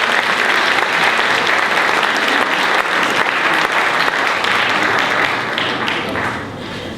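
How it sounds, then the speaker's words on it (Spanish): A loud, dense round of applause from the audience at a medical forum on obesity and eating disorders, sustained for several seconds and tapering slightly at the end. "Gracias y un aplauso nuevamente."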